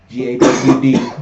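A close, harsh cough burst repeated a couple of times in quick succession, rough and throaty.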